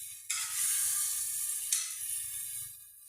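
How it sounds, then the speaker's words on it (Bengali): Cauliflower and mixed vegetables being stir-fried in a pan for a Bengali cauliflower curry, giving a steady hissing sizzle that jumps up sharply twice as the pan is stirred, with no talking. "এবার আমি এটাকে ভালো করে কষতে থাকবো।"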